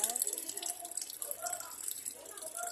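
Banaba leaves are rinsed under a running tap, a steady close splashing stream with some fluctuating spatter throughout.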